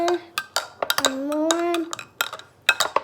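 A metal spoon stirring cold cocoa in a cup, giving bright scattered clinks and taps against the rim while someone talks over the stirring.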